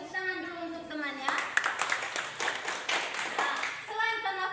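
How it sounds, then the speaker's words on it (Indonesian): Classroom students clap together for a classmate during a social studies lesson, a burst of quick, dense claps lasting a few seconds, with a teacher's voice talking just before and after. "Tepuk tangan dulu untuk temannya."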